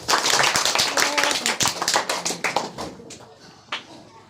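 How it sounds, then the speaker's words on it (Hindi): A classroom breaks into applause after a correct answer in an oral history quiz, a burst of many hands clapping loudly that thins into scattered, fading claps and a final lone clap. "ताली बजाइए।"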